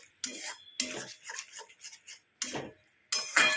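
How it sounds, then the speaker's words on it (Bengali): A spoon scrapes and clinks around a pot as yogurt is stirred into chicken pulao, in short, uneven bursts of stirring separated by pauses. "আগে একটু নাড়িয়ে নিই, না তো দই আবার ফেটে যেতে পারে"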